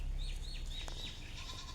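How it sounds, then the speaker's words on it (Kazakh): A Saanen goat gives a short, faint bleat at a farm in Shymkent's Karabastau area, heard in a quiet setting with soft background noise. "Осы Занинский ешкі сатылады."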